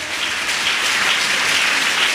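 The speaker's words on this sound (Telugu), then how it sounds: "గట్టిగా చప్పట్లు కొట్టండి" Church congregation applauding loudly at a worship service, a dense, continuous burst of clapping that stays steady throughout.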